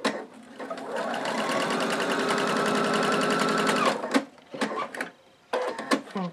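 A sewing machine stitches pieces of fabric for small houses in one steady, rapid run of about four seconds, then stops, followed by a few short bursts of stitching and handling noises.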